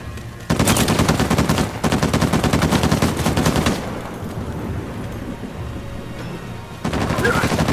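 Rapid automatic gunfire in Uncharted 4 survival mode during a boss fight, two long loud bursts of rattling shots separated by a brief gap, then a quieter lull before another burst starts at the end.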